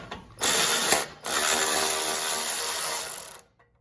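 Close ratchet clicking in quick steady strokes as bolts come off the muffler guard of an Ariens Sno-Tek snow blower, with a brief first burst and then a longer continuous run.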